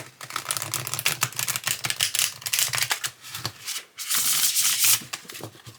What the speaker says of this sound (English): Yes, they shuffle very nicely.